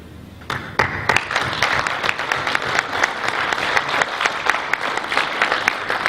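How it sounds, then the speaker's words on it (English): A crowd at the 2014 World Teleport Awards for Excellence ceremony gives a final round of applause, sustained and close, with individual sharp claps standing out from the steady wash. "I'd like to offer one final round of applause to SES and our recipients for this year"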